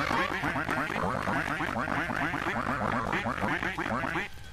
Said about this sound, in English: Chen Mode, which replaces all the in-game sound effects with goose honking